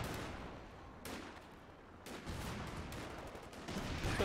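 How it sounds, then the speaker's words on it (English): Bazooka explosions in a strategy video game: several sharp, heavy bursts about a second apart, each with a fading rumble, set among scattered gunfire-like crackle, with no talking. "Heard an explosion."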